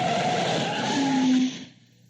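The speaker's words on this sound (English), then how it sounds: "Air brakes." A vehicle's air brakes hiss loudly with a tire skid, a dense rushing burst with a rising squeal that cuts off abruptly, leaving a quieter tail.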